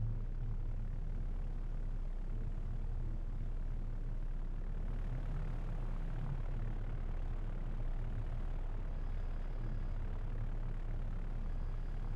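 A steady aircraft engine drones continuously in the Victory at Sea Pacific naval video game, a constant low hum with a brief faint tonal rise midway.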